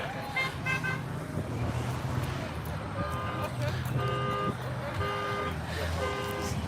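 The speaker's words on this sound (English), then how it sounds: "at least you can honk in support" Car horns honk repeatedly in short toots and longer blasts from passing traffic at a roadside mask protest rally, over steady road noise and engine rumble, with some voices in the background.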